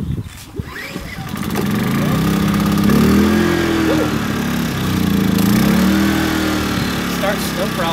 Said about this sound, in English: So let's go fire this generator up.